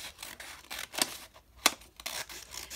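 Scissors snip through paper at a desk, a few quick crisp cuts with papery rustling in between, close and soft, with no talking.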